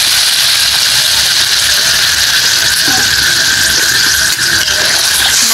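Water poured into a pan of browned country duck meat, a loud steady hissing sizzle with a sharp high squealing edge, continuous throughout with no talking.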